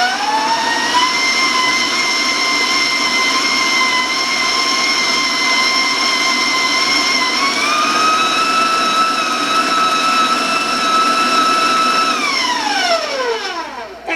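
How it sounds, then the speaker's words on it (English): Electric mixer beating peanut butter applesauce cookie dough, a steady loud motor whine with a shift in pitch partway through, then winding down as it is switched off near the end. "I'm just going to turn the mixer on for a little bit till it's well combined"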